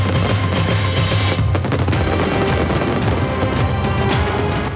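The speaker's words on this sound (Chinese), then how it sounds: "打造出气势磅礴的跨年烟火秀" A New Year's Eve fireworks show in Kaohsiung's Asia New Bay Area, near a ferris wheel, fills the air with dense continuous crackling and popping bursts, loud and sustained throughout.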